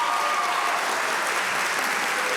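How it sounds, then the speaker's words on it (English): An audience at a school choral concert applauds all-state choir participants, a steady, full wash of clapping throughout with no break. "So a round of our applause for our all-state participants."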